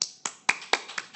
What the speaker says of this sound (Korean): 어우, 박수.